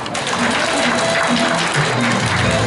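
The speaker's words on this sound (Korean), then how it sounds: "다시 한번 뜨거운 박수 부탁드리겠습니다" Warm applause from a banquet audience after a celebratory performance at an inauguration and year-end evening event in a wedding hall, loud continuous clapping mixed with crowd murmur, close and full.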